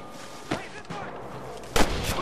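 Two sharp, loud gunshot bursts about a second apart crack through a steady background of ambient noise during a shootout in the video game Red Dead Redemption.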